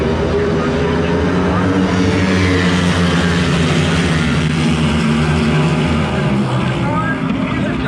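Racing motorcycles from the production twins class launch off the start at Bike Week 2022, a dense, loud, unbroken engine roar that holds steady throughout with a commentator talking over it.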